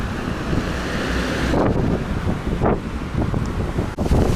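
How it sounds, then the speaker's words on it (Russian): Strong wind gusts roar and buffet the microphone beside a large puddle as waves run across it on a cold winter day in Alanya, loud and surging in waves with brief lulls. "как красиво порывы ветра и волны идут по этой луже большой"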